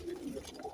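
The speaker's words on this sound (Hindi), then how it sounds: "बहुत अच्छे कबूतर हैं" Pigeons cooing softly in a loft, a short, faint burst of low throaty coos.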